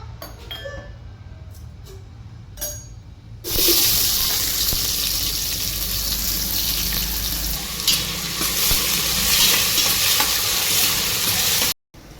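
Tempered rice with sprouted mung beans is stir-fried in a pan, starting with quiet clinks before a sudden loud sizzle that hisses steadily under scraping stirs, close and continuous, then cutting off abruptly.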